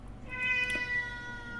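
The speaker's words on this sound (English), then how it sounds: "If you're hearing my cat, sorry for that." A house cat meows indoors, one drawn-out tonal call that rises and fades, moderately close and clear over a quiet room hum with no talking.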